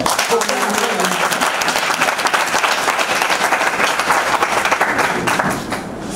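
A congregation applauds for Jesus during a French church service, with dense, sustained clapping from a large crowd that carries through and fades slightly at the end.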